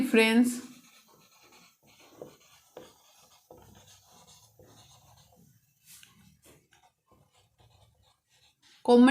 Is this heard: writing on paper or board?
yes